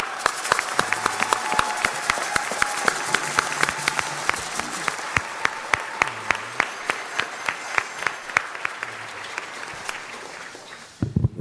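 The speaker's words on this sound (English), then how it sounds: "Let's give them a round of applause" Audience applause at a 2016 American Indian Heritage Month celebration in Los Angeles, a dense steady patter of many hands clapping for about eleven seconds before trailing off at the end.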